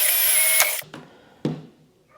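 A drill bites into a plastic freezer drawer for a loud, steady burst lasting under a second, followed by two short, fainter knocks or bumps of the tool against the plastic.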